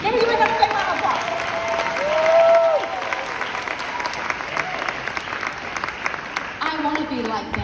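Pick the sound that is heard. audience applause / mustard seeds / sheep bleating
audience applause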